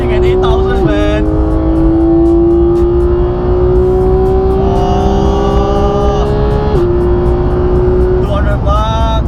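Porsche 911 GT3 flat-six held at full throttle along the long Sepang straight, a loud steady climbing wail up to about 8,000 rpm with quick upshifts in between, close inside the cabin and running under a driver's talk.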